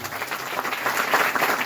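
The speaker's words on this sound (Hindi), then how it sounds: "परमेश्वर की आत्मा के लिए ताली बजा जोरदार।" A church congregation applauds loudly after a prayer, a steady wash of clapping from many hands that lasts the whole stretch, with no talk over it.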